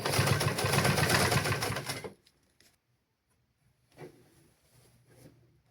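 A sewing machine stitching a lungi: a loud rapid run of stitching for about two seconds stops abruptly, followed by near silence and a couple of faint short bursts.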